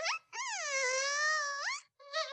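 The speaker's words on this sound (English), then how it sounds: "That buzzing noise means something." A cartoon bee in Winnie the Pooh gives off a sustained, pitched, wavering buzz that swoops and holds, then breaks off briefly before a shorter burst, clear and alone.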